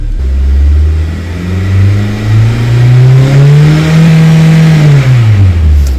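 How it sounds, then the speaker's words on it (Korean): An LPG car with a hard-starting fault revs as the accelerator is pressed, climbing toward about 4,000 rpm; a loud, steady engine drone rises in pitch, holds high, then falls back near the end, with no talk over it. "가속 페달을 밟았을 때 연료 펌프 구동률을 한번 볼게요."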